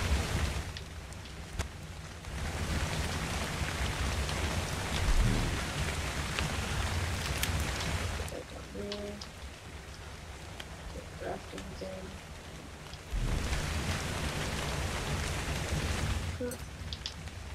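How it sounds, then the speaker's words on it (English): Steady rain falls in the survival game ARK, a constant hiss that swells and drops away in stretches, with a low rumble underneath and brief tonal game sounds in the quieter gap. "As soon as I light a fire, it starts raining."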